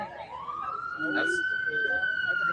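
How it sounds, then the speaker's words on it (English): A police siren wails steadily at mid distance, its long rising tone holding on while faint background noise continues. "Sirens everywhere."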